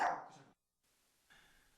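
A dog gives one short, sharp bark that fades quickly and is followed by near silence with faint background noise.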